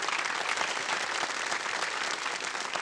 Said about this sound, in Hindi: तो एक बार फिर तालियों के साथ आपका अभिनंदन करते हैं।